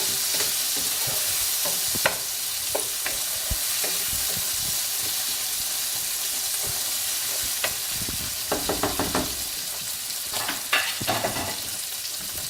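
Chopped tomatoes fry in a pan for palak paneer, a steady moderate sizzle broken by occasional clicks and scrapes of stirring, close by with no voices.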